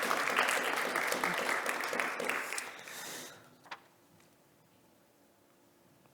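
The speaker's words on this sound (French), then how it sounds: "On doit l'applaudir." Conference audience applauding, a full burst of clapping that fades out after about three seconds, followed by near silence with a single faint knock.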